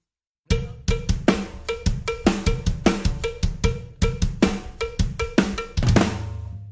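An LP Chad Smith Ridge Rider cowbell rings out in a steady, evenly spaced pattern of loud, cutting metallic strikes, close and dry, ending on a held note with no voices.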